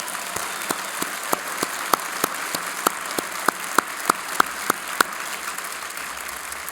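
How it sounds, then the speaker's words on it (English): At the 2025 World Food Prize ceremony, an audience gives a round of applause. Distinct, evenly spaced claps ring out sharply over a soft background for several seconds, with no voices. "Let's give her a round of applause"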